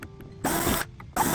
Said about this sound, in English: I'm going to use my jigsaw and go around and cut the whole thing.